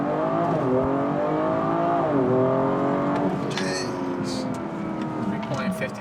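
A BMW F30 340i launches off a brake boost at a drag strip, its engine roaring loudly and rising through quick gear changes. Voices murmur briefly beneath it inside the cabin.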